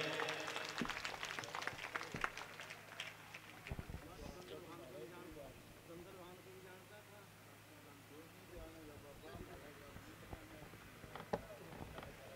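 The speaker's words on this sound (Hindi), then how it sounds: "जोरदार तालियों से स्वागत करें।" Rhythmic clapping welcomes a guest at a devotional jagran at Shri Ram Balaji Ashram, Badesara, bursting up at the start and again near the end, with someone talking over the quieter middle.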